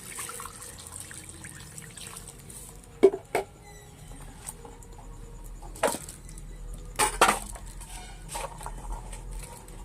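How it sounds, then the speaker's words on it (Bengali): Water pours and splashes into a cooking pot for boiling, a soft steady trickle broken by a few sharper splashes and clinks of the pot, close and alone with no talk. "দিয়ে দিলাম জল"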